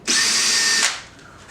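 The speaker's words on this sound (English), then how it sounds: "Now, just drill into those pilot holes." A power drill whines loudly and steadily for nearly a second while boring into a pilot hole in wood for a monkeypod floating shelf, then winds down and stops, close by and with no voices.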